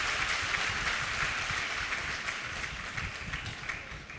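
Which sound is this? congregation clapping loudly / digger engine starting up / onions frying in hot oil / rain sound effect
congregation clapping loudly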